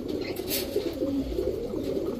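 Male pigeon, black Gola with snake-like eyes, large and fully white-beaked, cooing softly in a steady low murmur, continuous throughout and close by, with no talk over it.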